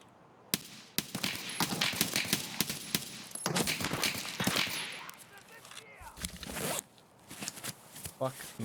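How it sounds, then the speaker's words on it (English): Video game gunfire, rapid bursts and single cracking shots in quick succession over several seconds, loud and close, with a pause then a few more shots, and a voice speaking partly under it. "Hopefully they're just shooting as they extract."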